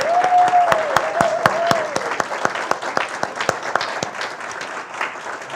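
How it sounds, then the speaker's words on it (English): A live audience gives sustained applause, dense at first and then thinning into scattered claps. A faint tone rings through the opening seconds. "I'd like to ask you to just give them all a nice big round of applause"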